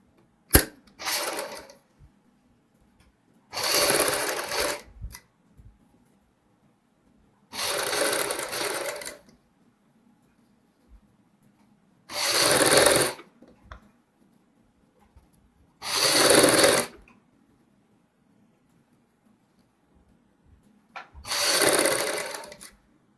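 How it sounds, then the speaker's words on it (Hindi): Sewing machine stitching along the folded outer edge of a baby frock's fabric, running in six separate bursts of steady whirring, each a second or two long, with quiet pauses between. "अब इसको बाहर की साइड इस तरीके से फोल्ड करते हुए सिलाई लगाएंगे"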